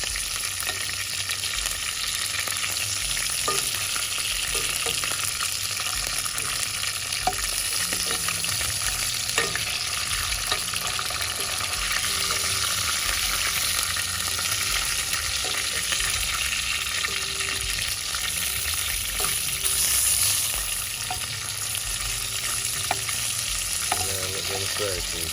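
Chicken pieces for Jamaican brown stew chicken fry in hot oil with a steady, dense sizzle throughout, a few faint utensil clicks and stirring sounds scattered over the continuous crackle, no voices.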